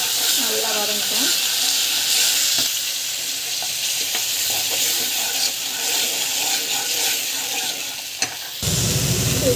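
Tomato puree with vegetables sautéing in a home kitchen pan, a steady dense sizzle with occasional stirring scrapes running throughout, loud and close, briefly cut off near the end.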